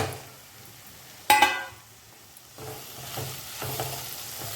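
Soybean masala with red chilli powder and garam masala being stir-fried in a pan, a sharp metallic clatter, then low sizzling and soft repeated scraping strokes close by.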